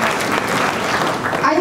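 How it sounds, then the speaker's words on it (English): An audience claps loudly and steadily throughout, a dense even wash of applause with some voices mixed in. "I haven't even said what I'm supposed to say and you all are clapping"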